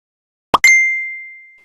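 A phone message notification sounds once: a quick click followed by a bright, clear ding that rings out and fades slowly into silence.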